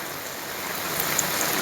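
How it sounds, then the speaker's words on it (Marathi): Heavy monsoon rain pours down in Nashik as a dense, steady hiss of close-by drops in a short burst. "नाशिक शहरासह जिल्ह्याला मुसळधार पावसानं झोडपलंय"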